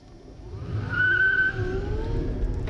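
1997 GM EV1 electric car accelerating and spinning its tires, with a brief rising squeal over a low rumble and a moderately loud, close sound.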